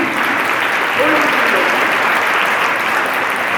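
Applause at an alumni and parents meet: many hands clap in a steady, full, close-sounding wash that swells slightly midway, with a speaker's voice faintly audible over it.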